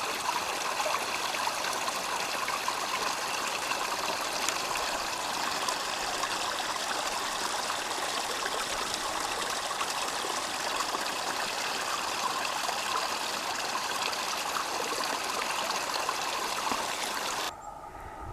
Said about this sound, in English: Another of our culverts, taking the runoff from off the hill.